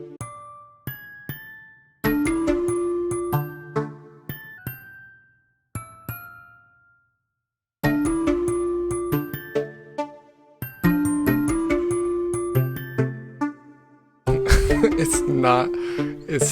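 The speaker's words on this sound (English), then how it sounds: "This bell isn't really giving me good higher tones." A synth bell melody programmed in FL Studio plays in bursts of bright, ringing notes with clear pitched tones and short decays, pausing between phrases and building to a denser, fuller passage at the end.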